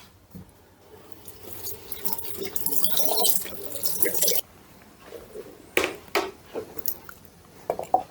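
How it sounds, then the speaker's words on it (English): Cold tap water running into a kitchen sink while vegetables for a slow cooker stew are rinsed, a steady splashy wash followed by a few louder drips and handling knocks near the end. "I'm just going to give these a wash off in the sink."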